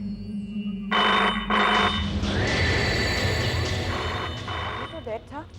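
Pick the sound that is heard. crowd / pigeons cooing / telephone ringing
telephone ringing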